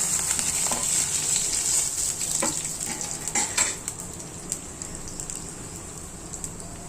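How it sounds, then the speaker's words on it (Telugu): Mustard and other tempering seeds frying in hot oil in a pan for a cauliflower stalk curry, a steady close sizzle with scattered crackles and pops that thins out after a few seconds. "కొంచెం నూనె వేసి తాలింపు వేసాం."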